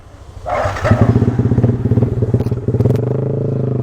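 A Yamaha NMAX motor scooter revs up close with a rattling, pulsing engine note that rises after a brief pause and holds steady, with some clattering alongside.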